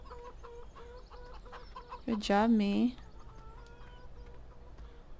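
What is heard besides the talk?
chickens clucking, from a video game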